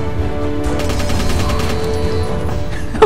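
Gunfire in the co-op shooter Interstellar Marines comes as a rapid burst of automatic shots, dense and fairly loud, followed by a short tail of echoing reverb and a sharp final hit.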